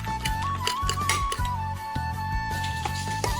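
A utensil clinks repeatedly against a bowl while two eggs are beaten together with chopped spinach, onion, chili powder and salt, quick close rhythmic taps with a steady tonal hum in the background.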